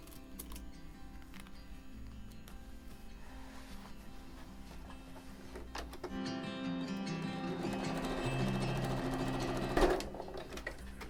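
A sewing machine stitches fabric for a cloth toiletry bag, a soft, steady mechanical whir with rapid ticking that grows busier and louder toward the end, heard close up in a quiet room.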